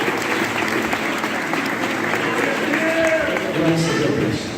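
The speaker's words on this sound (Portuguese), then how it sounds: "Os que podem, tomar o seu assento, aplaudindo a Jesus, porque Ele é bom." A church congregation applauds during a night vigil service, a dense, steady wash of clapping that runs the whole time, with voices speaking over it.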